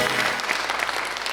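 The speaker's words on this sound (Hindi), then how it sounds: "तालियां एजाज के लिए" Studio audience at a talk show applauding steadily, dense even clapping that stays loud throughout a short stretch.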